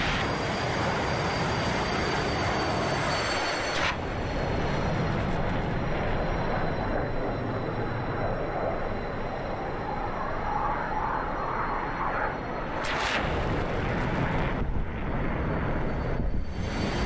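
MiG-19 jet aircraft flying in a 1970s-era air combat video game: a loud continuous roaring engine drone that holds steady throughout, with brief sharper whooshes standing out near the middle and end.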